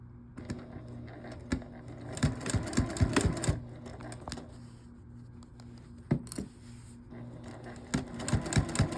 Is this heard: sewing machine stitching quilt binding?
yes